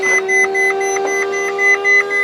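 Ferrari 458 Spider cabin as the roof button is worked, with a steady electronic tone and a string of short, evenly spaced beeps repeating close by.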